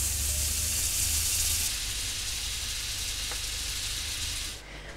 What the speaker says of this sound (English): We need to melt 3 tablespoons of butter over a medium-high heat.